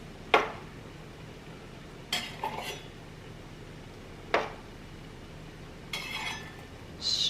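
Pint-sized glass canning jars are handled while being filled with boiling pickled red beets, giving a few sharp glassy clinks and knocks spaced seconds apart over a quiet kitchen background.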